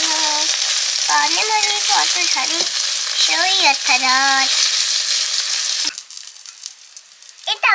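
Eggplant slices frying in a pan, with a loud, steady hiss of oil and tonal voice-like sounds rising and falling over it; near the end the sizzle thins out and turns patchier.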